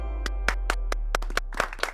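A small audience applauds on the set of a Hindi comedy drama, a run of sharp, fairly close hand claps in an uneven rhythm that thickens toward the end, over a low steady hum.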